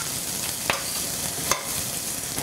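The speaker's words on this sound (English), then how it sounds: "You want to fry this for about 2 minutes." Gai lan stems stir-frying in a hot pan give a steady, close sizzle with a couple of sharp scrapes or clatters from stirring.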